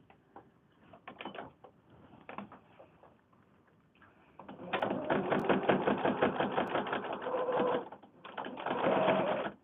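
A domestic sewing machine restitches an unpicked seam on a handmade fabric book, running in short bursts at first and then in a longer, steady, rapid stitching run close by, with no talking.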